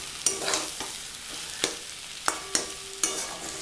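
Aloo gobi paratha filling of potato and cauliflower is mixed in a pan, with a soft sizzle underneath and several sharp spatula taps and scrapes at irregular intervals, close by and fairly quiet.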